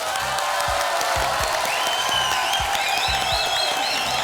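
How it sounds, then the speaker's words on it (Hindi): A TV game show studio audience applauds steadily, with a few cheers mixed in, over bright background music. Loud and continuous throughout. "तालियां।"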